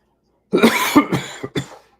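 A burst of several sharp coughs close up, one after another with short gaps, loud and raspy.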